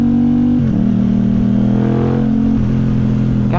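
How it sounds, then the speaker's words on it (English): An Aprilia RS660 motorcycle engine revs loudly and close while riding, holding a steady buzzing drone that dips briefly as the pitch shifts, then climbs again near the end. "God, this engine is so nice"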